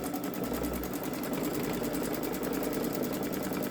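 A Babylock Solaris Vision sewing machine stitches an edge-to-edge quilting pattern, its fast steady needle chatter running continuously and close without pause.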